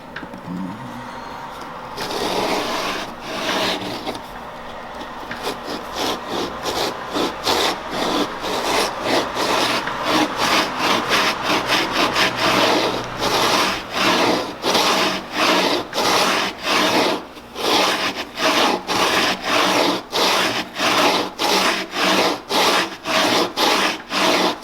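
A hand router plane cuts a dado across wood for a stair tread, producing steady rhythmic scraping strokes that start after a brief pause and repeat quickly and evenly, close up and loud, with no talking.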